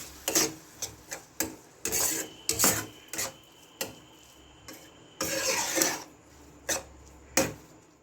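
Spiced masala with sugar and a splash of water is worked around a pan for bread pakoda, giving repeated close scraping and rasping strokes in an uneven rhythm with brief pauses between them.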